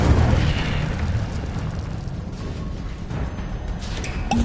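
A fire spell bursts in Hogwarts Legacy as a loud, roaring blast that rumbles on and crackles as it fades, with no talk.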